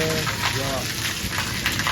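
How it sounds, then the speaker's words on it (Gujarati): Steady rain pours during an outdoor festival evening in Siddhpur, a dense even hiss throughout with a faint voice briefly at the start. "વરસાદ પડી રહ્યો છે સિદ્ધપુરમાં"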